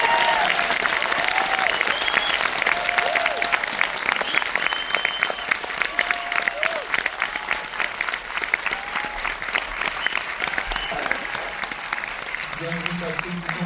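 A cinema audience at a Pathé Palace concert preview gives thunderous, sustained applause with cheers and whistles mixed in, while voices rise near the end.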